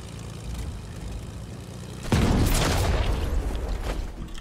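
Explosion in the Fortnite battle royale video game: a sudden loud boom cuts in over steady background game noise and then tails off in a rough, noisy rumble.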